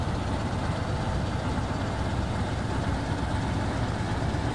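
Heavy truck engine in a trucking simulator game, labouring below 1,000 RPM with a steady, loud low rumble and drone that holds throughout.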